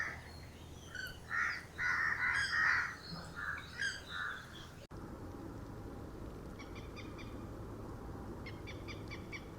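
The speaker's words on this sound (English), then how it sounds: "Makes short nasal grunts and croaking sounds." Short nasal grunts and croaking calls from a moorhen, several in quick succession, followed by softer clicking notes over a quiet marsh background.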